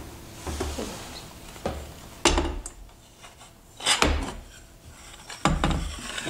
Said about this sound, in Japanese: じゃあちょっと辻野さん、これまずこっち方向にクランプしてみてください。